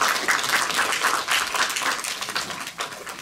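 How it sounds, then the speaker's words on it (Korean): An audience at a speech contest ceremony breaks into sustained applause, a dense patter of many hands clapping at moderate volume, continuing steadily for several seconds without any voices. "다시 한번 큰 박수 부탁드립니다."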